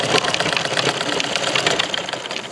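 A sewing machine stitches along a drawn design, its rapid mechanical whir running close and continuous throughout.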